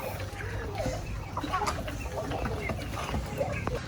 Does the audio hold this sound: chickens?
yes